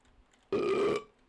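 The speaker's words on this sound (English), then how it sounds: "That burp meant good job." A single loud burp from a person, lasting about half a second, stands alone against a quiet background during a frustrating video game session.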